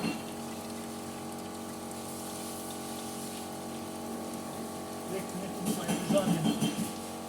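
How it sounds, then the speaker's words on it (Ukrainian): Water drains from the expansion tank of a Bianchi coffee machine with a steady gurgling flow, joined near the end by a louder splashing burst. "зливаємо воду з розширительного бачка"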